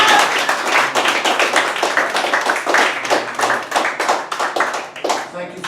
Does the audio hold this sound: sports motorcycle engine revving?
no